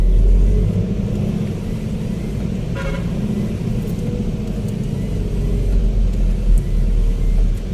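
Road traffic on a wide highway in the afternoon: a steady rumble of passing cars with a couple of short horn toots, heard continuously at moderate loudness with no talking.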